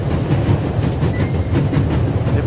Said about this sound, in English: The coal car and an old-fashioned steam engine are in front of it.